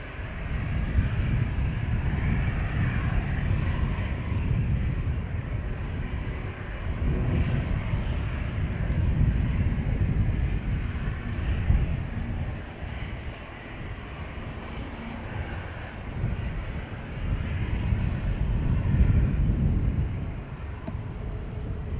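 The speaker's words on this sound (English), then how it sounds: "I'm sure you all heard that gust of breeze" Wind gusts buffet an outdoor microphone at Dublin Airport's north runway, producing a heavy low rumbling roar that swells and eases over the stretch, with distant aircraft noise blended underneath.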